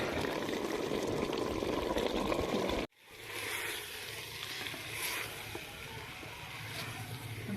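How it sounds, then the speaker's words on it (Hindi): Aloo methi, a curry of potato and fenugreek leaves, fries and sizzles steadily in a pan for a village-style dish, with a brief gap partway through before the crackling resumes at a slightly lower, sustained level. "इसको हमने अच्छे से भून लिया है।"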